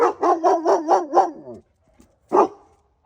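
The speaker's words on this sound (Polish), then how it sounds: "Pies sąsiada zaczął szczekać." A dog barks in a quick burst of about six barks, falls silent briefly, then gives one more bark, close and loud.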